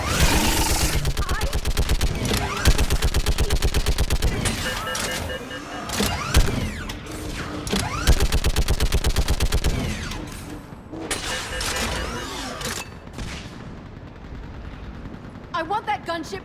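Dense automatic gunfire in the video game Mass Effect 3, rapid loud bursts and machine-gun rattles with mechanical clanks, shouted voices mixed into the battle noise.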